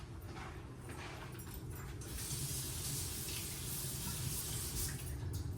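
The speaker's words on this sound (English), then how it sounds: "Rinse it off because it's dusty." Herbs are rinsed under running water, a faint tap stream that swells into a fuller, steady splashing rush partway through, with light handling sounds and no talk.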